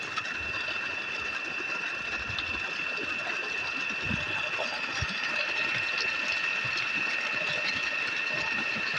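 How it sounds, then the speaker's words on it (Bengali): A 1 horsepower ACI electric water pump motor runs steadily for irrigating a rice paddy field, giving a constant loud hum and whine with a rough, rattling low rumble throughout. "খুবই চমৎকার পানি দেয় এই 1 হর্সের মোটরটি।"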